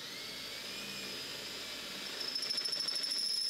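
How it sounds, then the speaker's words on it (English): A drill bores a hole through metal for a differential mount in a custom billet all-wheel-drive drivetrain build, a steady whining buzz that grows louder and harsher partway through, with no talking. "I'm just going to drill out this hole so that way I can put the diff into there"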